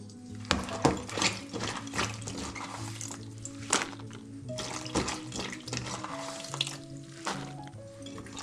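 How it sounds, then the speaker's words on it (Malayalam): Cut eggplant pieces being washed with water in a bowl, splashing and tap-like pouring with intermittent clatters and knocks of the vessel, close and moderately quiet. "ഇതിന് വെള്ളമൊഴിച്ച് നന്നായി കഴുകിയെടുക്കണം"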